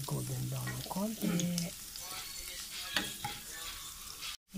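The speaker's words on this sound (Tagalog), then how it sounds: "Dito ko na rin siya niluto sa pinapritohan ng tokwa" Garlic frying in oil left over from frying tofu for tokwa sisig, a steady close sizzle with stirring scrapes, while a voice hums or speaks briefly at the start.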